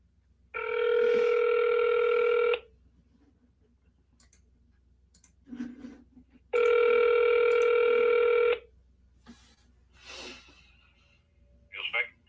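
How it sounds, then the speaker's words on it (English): Telephone ringback tones from a call to a diesel shop sound as two steady, evenly spaced buzzing rings about two seconds long, with quiet gaps holding faint clicks and soft background noise. "they're calling me back on my other phone"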